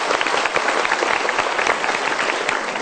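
Steady audience applause fills a televised motivational talk show hall in Indonesia, dense many-handed clapping holding at an even level throughout without pause.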